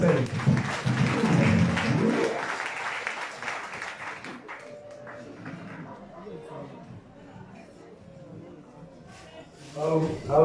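A church congregation applauds a gospel group at a Sunday service in Yopougon, Abidjan, with loud clapping for about four seconds before it thins into scattered claps, shuffling and murmuring voices.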